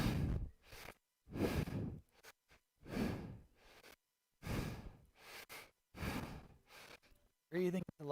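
Deep yoga breathing in a Kundalini-style practice, with long airy inhales and exhales in a slow repeating rhythm, close and fairly loud, ending with a brief voice.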